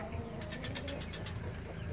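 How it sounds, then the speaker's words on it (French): Faint turtle dove calls, soft and repeated, drifting over a low steady background hum. "Là il y a une autre tourterelle."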